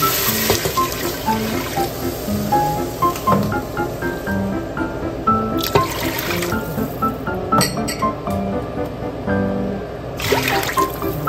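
Water runs and splashes steadily from a tap into a cooking pan, with scattered metallic clinks and clatter of cookware throughout.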